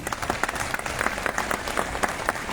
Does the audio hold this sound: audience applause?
yes